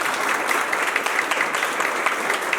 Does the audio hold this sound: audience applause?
yes